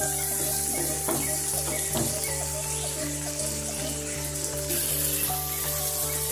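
Egg chicken masala being sautéed in a pan with a little water, making a steady, close sizzle with faint stirring scrapes throughout and no talk.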